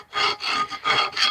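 Rust being scraped off an old brake drum with a hand scraper: four loud, rasping strokes in a steady rhythm, each a harsh grinding rub with brief pauses between, close up and with no voices.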